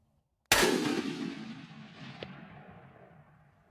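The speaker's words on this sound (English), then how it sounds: "call Cole, let him know we just shot a big buck here in Louisiana" A single loud Browning rifle shot fired at a deer during a Louisiana hunt, a sharp crack after brief quiet, followed by a long rolling echo fading over several seconds and a faint click.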